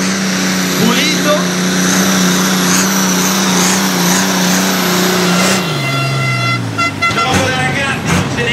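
A tractor-pulling machine at the Trecasali 2019 pull revs high and steady, its engine holding a sustained tone that drops in pitch near the end, loud and close under crowd noise and a commentator's voice.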